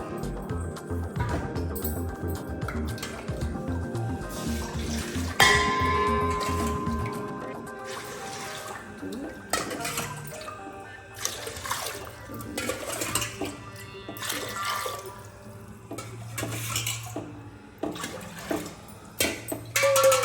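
Water pours into a pot for boiling rice for kunda chicken biryani, a rushing stream through the first several seconds that gives way to quieter splashes, clinks and handling sounds.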